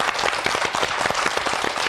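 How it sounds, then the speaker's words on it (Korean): Studio audience applause on a morning talk show, dense continuous clapping from many hands, loud and steady throughout the short stretch. "큰 박수로 모시겠습니다."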